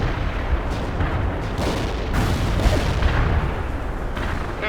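Heavy artillery fire in the video game World in Conflict: a continuous, loud barrage of deep booms and rumbling blasts that blend into a dense roar.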